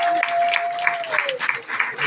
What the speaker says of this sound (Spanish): Así que un aplauso al Señor por el conocimiento.